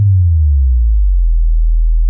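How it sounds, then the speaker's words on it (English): Cinematic boom drop made with a sine wave synth on C4 with pitch automation, a loud, deep tone sliding downward and then sustaining as a low rumbling hum, heard alone. "That's the boom drop effect that we're looking for."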